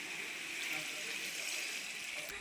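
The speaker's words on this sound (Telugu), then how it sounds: "వాటర్ పోసుకోవాలి" Water is poured into a cooking pot of tomatoes and chopped eggplant for a Muslim wedding-style curry, a faint, steady hissing splash heard briefly and quietly.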